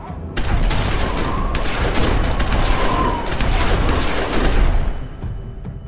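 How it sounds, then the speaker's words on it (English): Dense bursts of gunfire in The Walking Dead Game Season 2, rapid overlapping shots for several seconds, loud and chaotic, fading out at the end. "Damn, a whole gunfire started."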